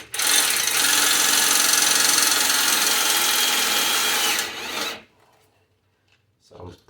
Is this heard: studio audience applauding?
no